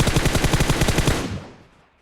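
Rapid automatic gunfire in the mobile battle-royale game PUBG Mobile: a loud, close burst of about a dozen evenly spaced shots that cuts off, with a short fading tail and no talking.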